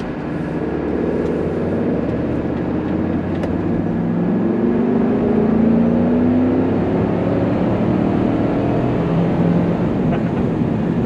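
A 1987 Mercedes 560SL engine pulls steadily under acceleration, its drone rising in pitch over continuous road and wind noise, with no talking.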